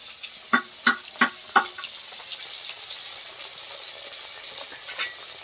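Onion, green chili and a few shrimp fry in a wok with five-spice tempering, turmeric and salt, opening with four sharp spoon strikes against the pan, then a steady hiss of frying with a final clink.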